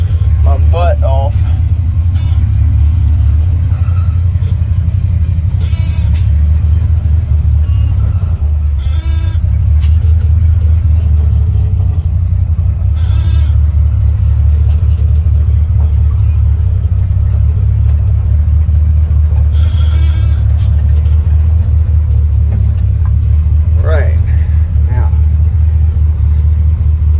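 Engine of a 1953 International truck drones steadily through the whole ride, a heavy low rumble that stays close and constant, with a few faint higher squeaks and clunks over it and no talking.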